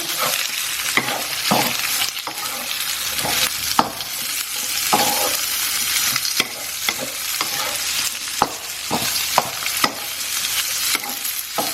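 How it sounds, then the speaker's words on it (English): Pork and garlic fry in a pan while being stirred, with a loud, continuous close sizzle broken by regular sharp scrapes of the utensil and no talking. "So I'm going to put my meat back in. Mix it through."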